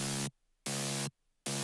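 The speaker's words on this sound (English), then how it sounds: "Look how different it sounds without the distortion." A saw wave synth patch layered with white noise and no distortion plays three loud, evenly spaced bursts, each a steady buzzy hiss with a low harmonic hum, separated by short silences.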